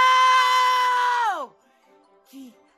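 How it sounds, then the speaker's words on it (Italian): A loud sustained scream holds steady for over a second and then slides downward and breaks off, followed by a short faint vocal sound. "Cosa sono queste urla? Cos'è sto casino?"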